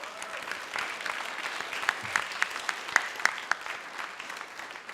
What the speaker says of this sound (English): Let's give the class of 2017 one more round of applause.